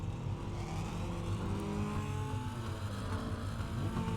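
A Mini Stock race car engine drones loudly in iRacing at Oxford Plains Speedway, a continuous revving roar with shifting pitch, steady and close throughout without talk.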